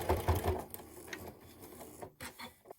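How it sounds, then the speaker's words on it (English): A sewing machine stitching over a fabric binding piece, giving a quick burst of rapid mechanical needle clatter at the start, then quieter intermittent whirring and clicks, close and soft. "just stitch over that just a small bit"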